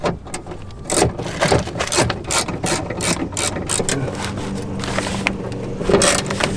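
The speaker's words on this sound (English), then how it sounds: "So now I'm gonna unscrew everything and pull that baby out." Tool unscrewing fasteners on a car door panel to reach a faulty power window: steady, close ratcheting clicks and mechanical rattling that continue for several seconds without talk.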